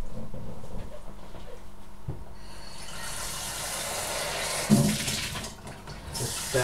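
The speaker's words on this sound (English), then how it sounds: "just going to fill it up with the water." Water runs from a kitchen tap into a pot, a steady splashing pour that gets brighter and fuller as the pot fills, with a few clunks of handling.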